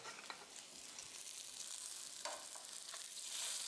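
Pork chops sizzle steadily in a hot pan just after being flipped, a dense, even hiss that swells slightly louder toward the end, with faint clinks and stirs and no talking.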